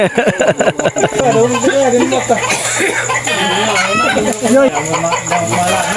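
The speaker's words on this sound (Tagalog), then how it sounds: "Manok." Chickens cluck and a rooster crows nearby in a rural provincial yard, loud and continuous, while people talk over the birds.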